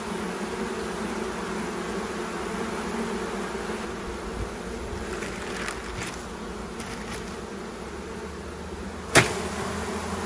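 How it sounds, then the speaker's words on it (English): Honey bees shaken from two hive frames onto a newspaper give off a steady, close buzzing hum throughout, with a brief sharp knock near the end. "So shaking the bees onto a newspaper, two frames in our case"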